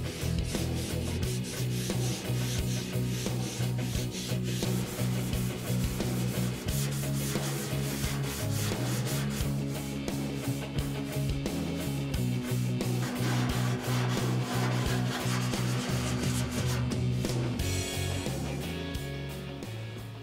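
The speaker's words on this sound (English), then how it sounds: "Contour glazing putty sands very nicely with 180, but I like to break it open with 80 grit first" Contour glazing putty on a rusty car fender being hand sanded with 80 grit sandpaper, a steady continuous rasping scrub of rapid back-and-forth strokes, loud and close, with no talk.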